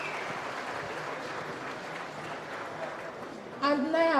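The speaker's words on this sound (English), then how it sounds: "Hand of applause, please" Crowd applause at the Iri Ji festival, a steady wash of clapping that keeps going evenly, then a voice begins speaking near the end.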